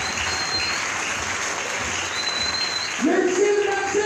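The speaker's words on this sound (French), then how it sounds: "Applaudissons fort." A church congregation applauds at a preaching service, a dense wash of clapping that carries on steadily, with a sung or sustained voice rising over it near the end.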